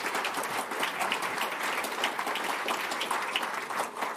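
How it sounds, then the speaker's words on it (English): Steady, dense applause from an audience at the AMD 2025 Financial Analyst Day, greeting company executives; many hands clapping continuously at a moderate level throughout, with no speech. "You can feel free to give them a round of applause."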